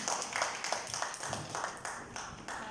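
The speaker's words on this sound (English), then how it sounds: "Let's have a round of applause." An audience applauds at a morning talk, with a steady patter of many hands clapping at close range that carries on evenly throughout.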